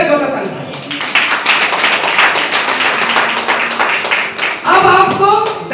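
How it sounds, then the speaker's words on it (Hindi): A church congregation at a Sunday sermon breaks into loud, sustained clapping, a dense wash of applause lasting several seconds after the preacher's voice, which returns at the end. "जोरदार ताली।"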